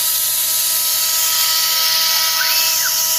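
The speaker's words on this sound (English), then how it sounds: "he's engraving in aluminum" A CNC engraver with a 0.1 mm tip cuts into aluminum under mist coolant on a retrofitted 6040 machine, making a steady, loud, high-pitched whine and hiss that holds throughout with faint pitch shifts.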